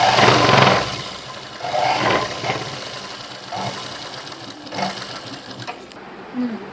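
A sewing machine stitches a long frock in several short bursts of rapid mechanical whirring and clatter, with brief pauses between runs, heard up close.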